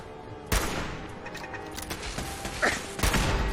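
Turrets fire in the Fallout 4 Nuka World video game, loud bursts of rapid gunfire with sharp onsets and mechanical clanks, close and intense.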